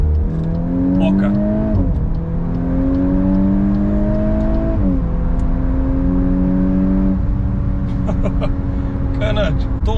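A VW Golf in a racing video game accelerates in race mode, its engine whine climbing in pitch through stepped gear changes, steady and loud, with a person talking over it.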